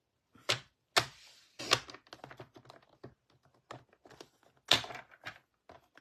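A paper trimmer cuts through cardstock up close, giving a quick run of sharp clicks and scraping snaps of irregular loudness, each ending abruptly, with brief gaps between them.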